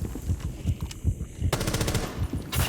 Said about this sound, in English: I hear Cav shotgun, or maybe pulse shotgun.